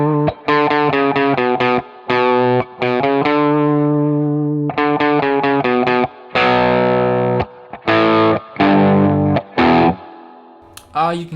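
A Gibson Les Paul electric guitar runs through a Boostache boost pedal, playing a driven, distorted riff of choppy chord stabs and sustained notes with short gaps between phrases, loud and close.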